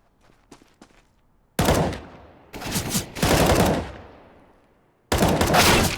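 M4A4 rifle gunfire in Counter-Strike: a few faint shots at first, then loud, close bursts of rapid automatic fire separated by short silences.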